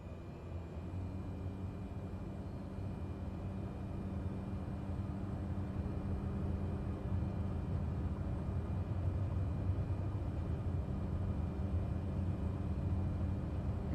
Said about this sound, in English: We are ready for takeoff.